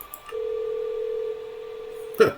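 A steady single-pitch dial tone from a phone call in the Minecraft video game hums for about two seconds, then ends with a short bright click-like blip; no one speaks.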